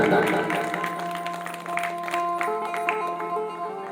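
Audience applause at a Hindu devotional Shrimad Bhagavat katha gathering, a steady patter of clapping that fades gradually over a few seconds beneath sustained harmonium-like tones.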